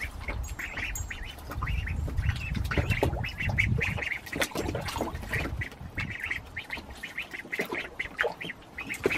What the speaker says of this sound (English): We can fit four little duckies.